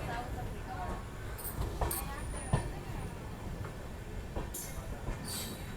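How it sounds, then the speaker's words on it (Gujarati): Continuous rumble of a passing goods train of petrol tanker wagons with rhythmic wheel clatter and occasional squeals, heard from nearby under low background noise. "સામે તમે જોઈ શકતા હશો ગુડ્સ ટ્રેન આવી એટલે પેટ્રોલવાળું પેટ્રોલના ટેન્કર આવી ગયા છે"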